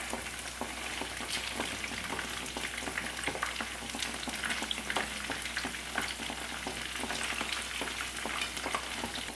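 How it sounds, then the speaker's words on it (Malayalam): Chicken pieces fry in a pan for chilli chicken, giving a continuous, fairly quiet crackling sizzle with small pops and stirring scrapes throughout. "ചിക്കൻ ഒന്ന് ഫ്രൈ ആയിട്ട് വരണം, പക്ഷെ ഒരു സോഫ്റ്റ് ആയിട്ടുള്ള ഒരു ടെക്സ്ചറിൽ തന്നെ ഇരിക്കണം"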